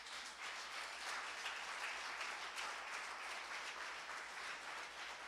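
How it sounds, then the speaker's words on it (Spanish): A church congregation at a Sunday service applauds, with steady, dense clapping from many hands that fills the room evenly throughout, moderately faint and with no voices over it. "Denle un aplauso al Señor."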